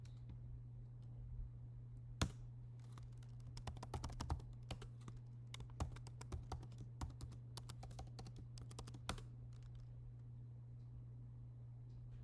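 Keys on a computer keyboard are tapped in a quick irregular burst as a password is entered, soft close clicks over a steady low electrical hum, with a brief pause before the last few presses.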